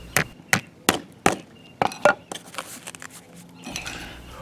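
Sharp, distinct hammer blows drive a spike through a patio paver edger, about seven strikes in irregular succession followed by quieter scraping and handling.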